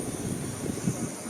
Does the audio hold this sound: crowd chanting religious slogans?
no